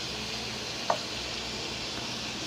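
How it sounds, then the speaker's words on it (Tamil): Butter melting in a pan gives off a soft, steady sizzle in a home kitchen, with one brief clink of a utensil near the start. "இப்போ ஒரு பேனில் ஒரு ஸ்பூன் பட்டர் போட்டுக்கோங்க. பட்டர் மெல்ட் ஆகட்டும்."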